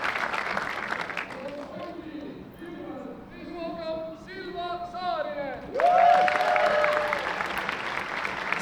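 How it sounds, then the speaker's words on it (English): A large Estonian crowd applauds and cheers at a disc golf European Championship final round, the clapping steady throughout while a commentator talks over it, swelling louder near the end. "A huge Estonian crowd here to see her."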